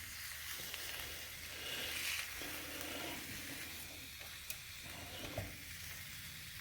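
Pork chops sizzling on a George Foreman grill, a faint steady hiss with light crackle and a couple of small clicks, quiet and continuous with no talking.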